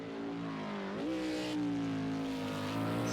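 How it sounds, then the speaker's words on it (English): An Aston Martin race car engine drones with a steady tonal note that climbs in pitch and then holds, the smooth sustained hum carrying loudly throughout. "Hear the purr from the Aston."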